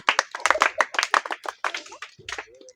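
An audience claps for a contestant at a balloon-popping dart prize game, with quick, dense rounds of applause close by and a voice rising briefly near the end.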